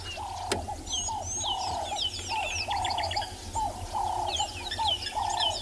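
Repeated soft, low cooing phrases from a Cape turtle dove at sunrise in the Tswalu Kalahari reserve, steady and rhythmic, with other birds chirping and twittering higher above in the background.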